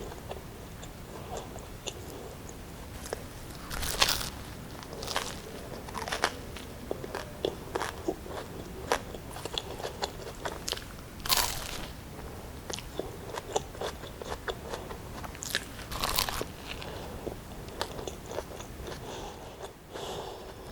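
Crisp biting and crunching of a homemade shrimp-burger-flavoured toast with onion and pickled radish, close up, with repeated sharp crunches and steady chewing throughout, no talking.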